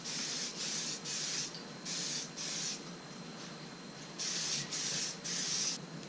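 Krylon silver spray paint hisses onto a Mini Cooper door handle cap in about seven short bursts, each roughly half a second, close and fairly quiet, with pauses between them.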